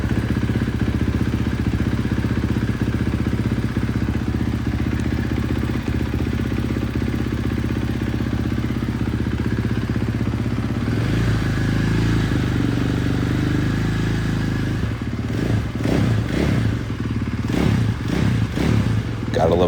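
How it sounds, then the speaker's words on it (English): A freshly rebuilt Husqvarna FS 450 motorcycle engine fires up for its first start, running loud and steady with a dense mechanical drone, then revs in several sharp bursts toward the end. "Gotta love the sound of a motor that was just rebuilt."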